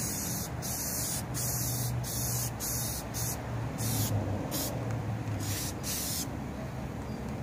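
Rust-Oleum spray paint hisses from an aerosol can onto a camper's water heater cover, in a run of close bursts of steady hiss separated by short pauses, with no talking.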